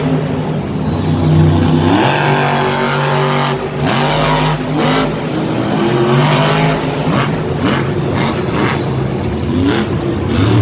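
A monster truck's engine roars and revs hard in an arena at Monster Jam in Lyon, France, in 2018, with the truck running poorly. The roar rises and falls in pitch over continuous loud crowd and arena noise.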